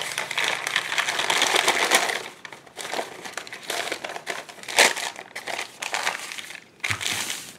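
Thin brown paper from a small paper bag being torn flat and then scrunched, giving a near, continuous run of crinkling and crackling rustles with brief pauses and a few sharper rips, no voices.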